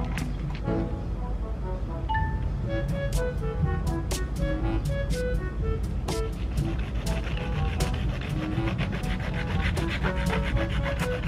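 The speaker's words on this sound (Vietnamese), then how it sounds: "Bây giờ mình sẽ cắt khúc này ra." A homemade multi-purpose car-wash and plant-watering tool is cut to length with a hand tool, producing steady rasping, rubbing strokes with sharp clicks throughout, up close and without talk.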